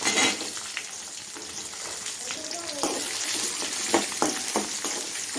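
Dried red chilies and garlic sizzle while being sautéed in a hot pan for a chutney, with a steady frying hiss, scattered spatula clicks and brief stirring scrapes close by, running throughout.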